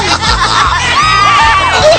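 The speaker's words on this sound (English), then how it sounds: "The crowd goes loony." Basketball crowd in an audio drama erupting in wild cheering after a final-second dunk, loud whoops, yells and shouts swirling together close up with rising and falling voices.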